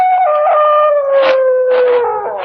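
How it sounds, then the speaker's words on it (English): A dog howls from across a lake at night in a radio drama sound effect, one long loud sustained wail that wavers and dips in pitch, heard alone with no talk. "From somewhere across the lake, I heard the cry of a dog"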